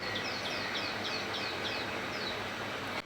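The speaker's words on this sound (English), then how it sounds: "Here's another really common bird, the common tailor bird that I heard at around noon." A common tailorbird in Mumbai around noon gives a series of sharp, high, repeated chirps at a steady rhythm, faint against a constant background hum of the city.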